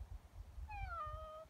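A single drawn-out cat meow with a rising then falling pitch, moderately close, over low rumbling background noise.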